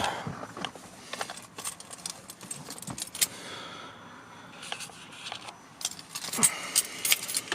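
Car keys jangle and rattle in repeated bursts inside a Kia Sedona minivan, close and fairly loud, with small clinks scattered through the clip.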